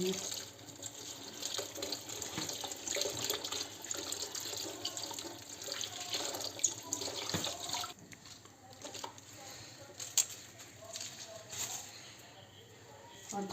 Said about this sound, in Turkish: Kanatlarını arasını falan yıkıyorum böyle.